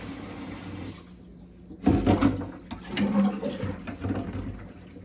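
Water rushes and gurgles as a sink drains after its stopper is pulled, with a few clunks and a steady swirling flow growing louder after a quiet start.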